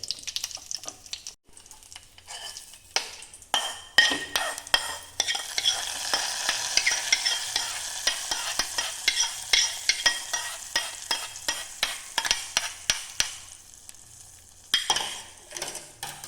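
Jackfruit stirred and fried in a pan for a Karnataka-style palya, with a steady sizzle and repeated scraping, clinking strokes of the spoon against the pan, close and continuous.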